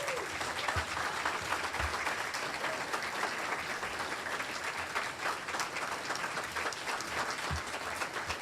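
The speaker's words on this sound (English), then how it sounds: "Give him a round of applause, please." Sustained applause from a luncheon audience at a Kiwanis Patriots Day event in Bradenton, honoring a Manatee County Civilian of the Year recipient; dense, steady clapping fills the room throughout with a few low thumps.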